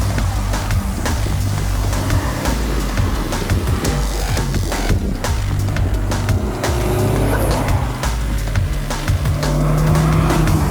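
A 2017 Honda Civic Type R with a six-speed manual lapping a track, its engine roaring loud and constant while the tires squeal through corners.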